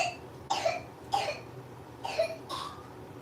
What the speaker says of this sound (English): She does also have a pretty bad cough.